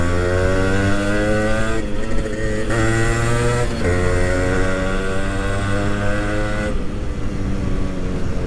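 Yamaha RX100 motorcycle, its engine rebored and sleeved, starting and revving after sitting ten days: a steady, loud engine drone with rising and falling pitch as the throttle is blipped, heard close up without speech.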